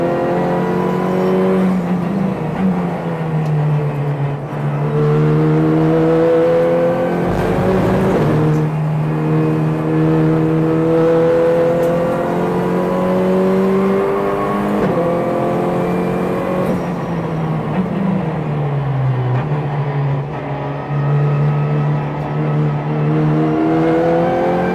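A race car driven hard on a track, its engine roaring loudly and steadily with rising and falling revs through shifts and braking, close and continuous with no talking.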